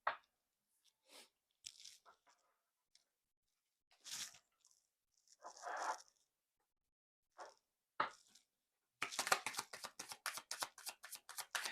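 Tarot cards are handled close up: scattered soft card slides and flips, then a rapid, rhythmic riffle shuffle near the end.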